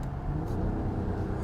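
Low, steady rumble of a Mercedes-AMG GLE 53 Coupé six-cylinder engine driving through a tunnel, a deep even drone heard from inside the car with no voices.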